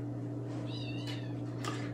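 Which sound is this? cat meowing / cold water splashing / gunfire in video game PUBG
cat meowing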